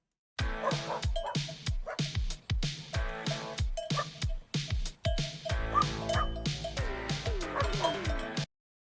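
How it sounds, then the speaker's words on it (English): A sound effect of dogs barking: a rapid, regular run of sharp, loud barks, roughly two per second over eight seconds, with yips and a busier, overlapping stretch near the end. "Dogs barking goes to 30, and it becomes..."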